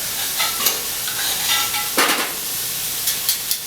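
Food sizzling on a grill makes a loud, steady hiss, broken by a few sharp scrapes and clicks from turning it.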